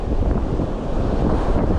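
Strong beach wind buffets the microphone in a dense, continuous low rumble, loud and unbroken throughout.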